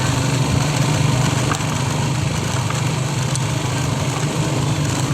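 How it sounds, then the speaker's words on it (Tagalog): A motorcycle engine runs steadily throughout while riding through a compound in Manila, a continuous close drone with a low hum and no talk. "nagka-clutch din ako ng motor."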